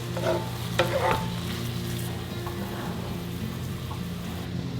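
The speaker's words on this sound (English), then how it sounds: "I'm gonna go ahead and let this simmer down, release some of the liquid." Taco filling with Rotel and diced green chilies sizzles and bubbles steadily in a pan, a close, even frying hiss with a few stirring scrapes near the start.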